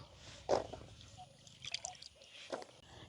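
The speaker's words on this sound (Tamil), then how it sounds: "நாங்கள் ரெண்டு தண்ணியில் நல்ல வடிவாக நெல்லிக்காயை கழுவி எடுப்போம்" Gooseberries being washed in a basin of water at home for jam, with soft splashes, drips and gentle sloshing at close range, fairly quiet and without talk.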